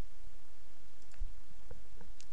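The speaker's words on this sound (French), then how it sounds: "je vais faire un clic droit et créer un nouveau dossier" A computer mouse gives a few faint, sparse right-clicks, short sharp ticks spaced out over a couple of seconds against a steady quiet background hiss.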